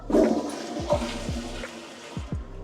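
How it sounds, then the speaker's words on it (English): A toilet in a room at Disney's All-Star Movies hotel flushes nearby, a loud rushing swirl of water with gurgling pulses that keeps draining to the end. "Do a flush test to see how loud it is."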